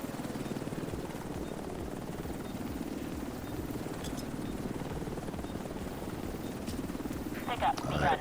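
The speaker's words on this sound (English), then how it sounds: "Get to the chopper." A helicopter in the video game Into The Dark Manhunt makes a steady, rapid rotor chop that runs throughout at a moderate distance, with a few faint clicks and game sounds near the end.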